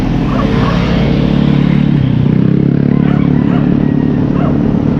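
A motorcycle engine runs close by with a loud, steady low drone and a rapid even pulse, holding at constant volume throughout with no talk over it.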